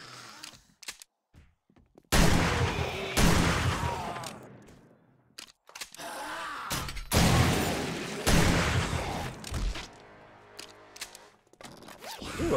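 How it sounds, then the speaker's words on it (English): Shotgun blasts in the survival game 7 Days to Die (Ravenhearst), several loud separate booms spaced a few seconds apart, each followed by quieter rustling and clicking between shots. "Shotty gun."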